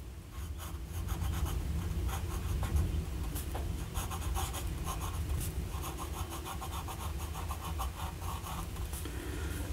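Lamy AL-star fountain pen with a fine nib writing on paper, a soft, continuous scratchy scrawl of strokes up close and quiet, with no voices.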